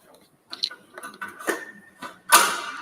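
A Bernina E16 Plus embroidery machine traces the outline of a hooped design: quiet, uneven mechanical clicking and whirring in short spurts, ending in a louder sustained mechanical run.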